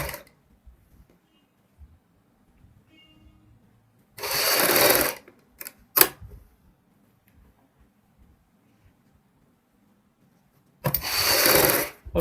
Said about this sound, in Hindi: और बड़े ही ध्यान से बुकरम के साथ साथ हमने सिलाई लगानी है